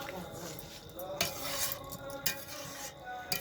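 A spatula scrapes and clinks around a pan of chilli chicken in tomato sauce over a low flame, steady stirring with periodic metallic taps against the pan, under soft kitchen background.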